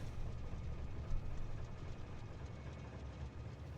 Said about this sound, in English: Maybe trains always made that noise,